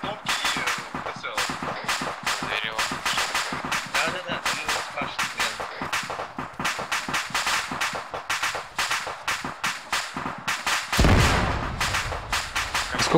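Rapid, dense gunfire and booming artillery blasts from the Arma 3 video game, a near-continuous barrage of sharp cracks with a heavy low thud near the end, as players talk over it.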